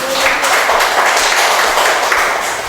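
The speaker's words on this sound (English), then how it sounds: "Can you please give her a round of applause?" Classmates applaud a student in a lesson on computers, a loud, continuous burst of many hands clapping that holds evenly throughout.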